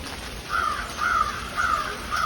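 Crows cawing outside on a chilly, rainy morning, four evenly spaced harsh caws about half a second apart at moderate distance over a soft background hiss.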